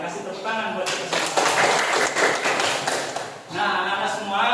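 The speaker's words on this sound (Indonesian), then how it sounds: "tepuk tangan buat kita semua" A class of schoolchildren claps together in a classroom, a loud, busy burst of clapping mixed with voices and chatter that swells and then gives way to more talk.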